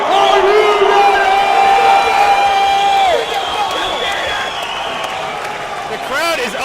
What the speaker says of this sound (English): The crowd is on their feet for this one.